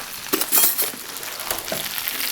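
Cajun stir fry with onions is turned with a pair of spatulas, giving soft scraping clinks and a light sizzle in a few quick strokes that fade to a steady low frying hiss.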